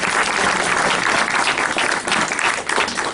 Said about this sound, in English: And then also just give them a round of applause.